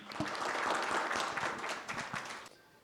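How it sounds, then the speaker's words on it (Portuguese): A conference audience at a retail innovation event applauds with a dense, loud patter of many hands for about two and a half seconds before it cuts away to quiet. "Agradeço as palmas."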